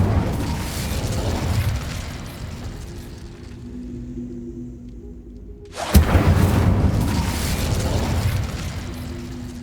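Incendio fire spell in the video game Hogwarts Legacy: a dense rumble fades to a quiet hum, then a sharp bursting crack sets off a loud roaring fiery swell that keeps going.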